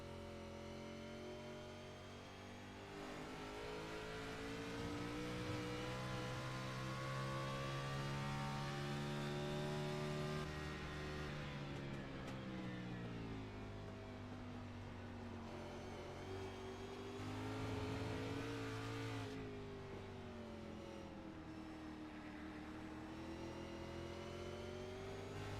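An Xfinity Series race car at Watkins Glen heard from the onboard camera, its engine screaming and revving up and down through gear changes in a continuous loud wail, with no talk.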